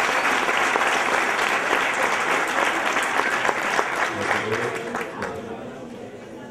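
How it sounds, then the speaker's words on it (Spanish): Sustained applause from a crowd at a school graduation ceremony in Colombia, dense and lively at first, then gradually fading toward the end, with chatter underneath. "Un fuerte aplauso para él."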